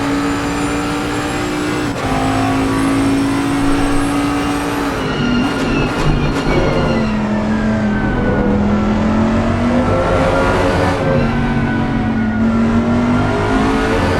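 Bentley GT3 race cars battle on the Imola circuit in a sim racing game, with a steady, loud engine drone that rises and falls in pitch through gear changes and corners, and no talking.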